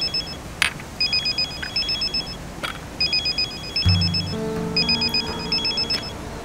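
A telephone rings in repeated bursts of bright, rapid bell trills with short pauses between them, close and clear, while a low tonal sound swells midway through.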